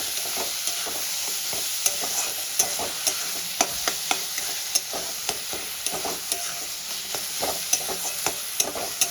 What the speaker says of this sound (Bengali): খুব ভালো করে এবার আমি কষাতে থাকবো